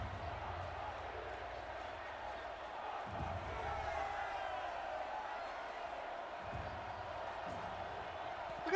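A crowd of villagers in Horizon Zero Dawn cheers and murmurs as a broad, steady roar, with a few thuds and muffled voices mixed in at moderate volume.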